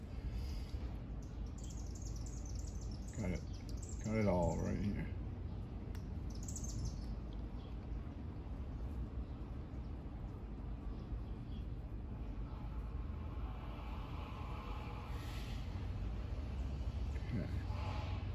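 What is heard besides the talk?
birds chirping in a downtown city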